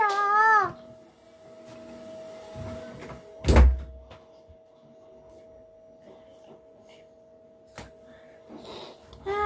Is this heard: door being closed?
yes